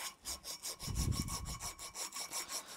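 Copper pipe scuffed with an abrasive before soldering: a close, steady run of about a dozen quick back-and-forth rasping strokes, with no talk.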